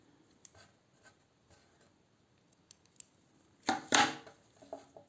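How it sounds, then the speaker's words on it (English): Scissors snip through crochet yarn, a few quiet ticks and clicks followed by two sharp, close cutting snaps near the end. "and cut the yarn."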